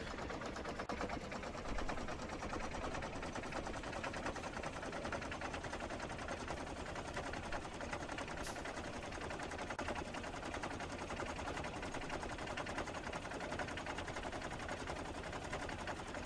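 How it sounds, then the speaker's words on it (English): Mark II gun turrets in the game Factorio fire in a steady, dense rattle that stays level and continuous throughout, a fast mechanical chatter at moderate loudness, with no talking. "There's the Mark II gun turrets."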